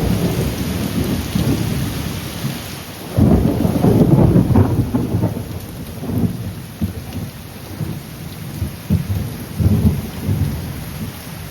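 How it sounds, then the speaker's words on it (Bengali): A heavy monsoon-season thunderstorm: steady loud rain with deep rolling thunder swelling midway and rumbling on, no voices present. "এত জোরে জোরে বিদ্যুৎ চমকাচ্ছে"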